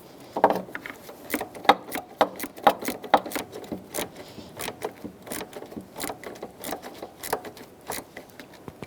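Rhythmic clicking and ratcheting of a 7mm socket tightening a hose clamp on a 2001-2007 Volvo V70 during cooling fan work, close and moderately quiet, in short repeated strokes.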